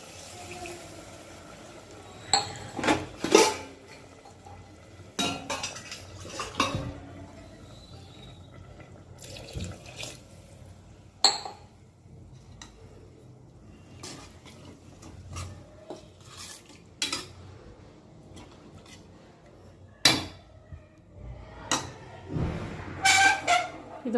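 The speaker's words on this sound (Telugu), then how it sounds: "ఇప్పుడు కొంచెం వాటర్ వేస్తావు" Water goes into a pot of mutton coconut curry in a series of intermittent splashes, sloshes and clanks against the pot over a quiet background.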